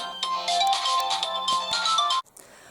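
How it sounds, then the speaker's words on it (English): A mobile phone ringtone rings close and loud in a repeating melodic pattern of bright electronic tones, then cuts off abruptly, leaving quiet room tone. "That is my phone."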